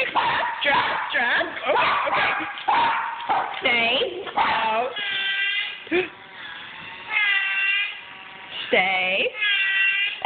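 A dog gives a series of high, excited barks and yips close by, mixed in with people talking over and between them.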